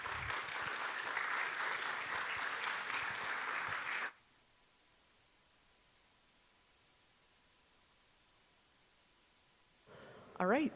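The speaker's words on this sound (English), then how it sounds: "So let's give a round of applause to Elizabeth Strickler from Georgia State University" Audience applause for Elizabeth Strickler of Georgia State University at a SINFO talk, a dense wash of clapping for about four seconds, then near silence with a faint hum before a voice starts.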